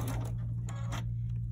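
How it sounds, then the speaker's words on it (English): A sewing machine stitches quilt fabric pieces sewn right sides together, giving a steady low motor hum with rapid needle clatter that swells and fades in short bursts, close and moderately quiet. "So I'm gonna sew two together, the other two together"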